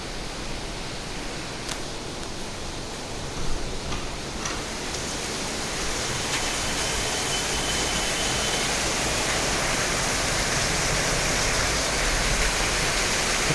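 Heavy rain pours steadily over a house plot in Ernakulam, a dense, constant hiss that holds at an even level from start to finish with no voices.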